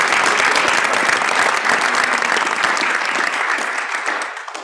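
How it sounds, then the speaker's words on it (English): Warm round of applause from a board meeting audience for a departing member, a loud, even crowd clapping that fills the whole stretch and begins to thin out near the close. "Let's give Deanna a round of applause"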